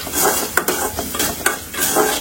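Onions, tomatoes and chillies sautéing in a pan, a continuous close sizzle broken by a few sharp scrapes and clinks of a spoon stirring against the pan, with no talk.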